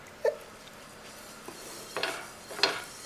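A nonstick pan is set on the stove while making a Kerala-style breakfast, giving a couple of light metallic clanks and scrapes against quiet room tone.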